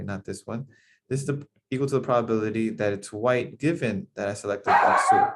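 A pet dog barks in the background during a math lecture, with a short burst near the end that overlaps the lecturer's continuous talk.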